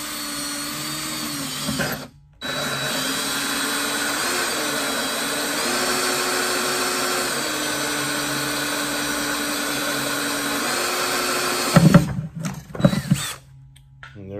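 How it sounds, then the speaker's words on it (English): Power drill boring a hole for an automatic waterer, a steady whirring drone running continuously and loud, then a short pause, with clattering handling noise near the end. "So we're just going to drill here."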